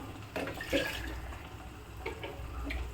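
Water is poured into a cooking pan of snake gourd and potato thokku, a faint, brief splash and trickle against quiet kitchen background.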